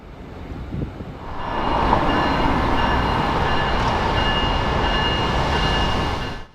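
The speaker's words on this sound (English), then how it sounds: "After a short layover, Bright Red departs south for Miami." A Brightline passenger train pulls out of a station heading south for Miami, its roar building quickly into a loud, steady rush of wheels and engine close by before fading at the end.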